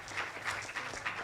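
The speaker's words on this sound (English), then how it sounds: "Applause for team number 12." Brief, fairly faint applause from an audience at a design and engineering education competition, clapping for a team as it finishes its presentation; scattered claps pulse unevenly over about a second.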